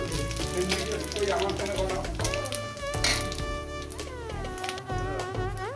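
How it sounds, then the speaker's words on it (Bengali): Dry red chillies and panch phoron sizzle in hot mustard oil for a dal chorchori with pumpkin greens, a steady close crackle running under a voice throughout. "তেল গরম হয়ে গেছে শুকনো লঙ্কা পাঁচ ফোড়নটা আমি দিয়ে দেবো"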